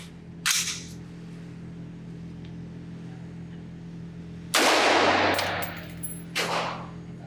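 Suppressed rifle shots of .223 rounds through a Huxwrx Helix HX-QD-556K suppressor at a range: a sharp crack early on, then a louder, longer blast and a third crack, all over a steady low background hum.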